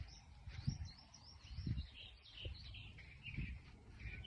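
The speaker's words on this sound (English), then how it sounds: "Birds greeting me." Small birds chirping outdoors at a garden, high, thin tweets repeating across the clip, faint and somewhat distant, with soft low thumps from nearby movement underneath.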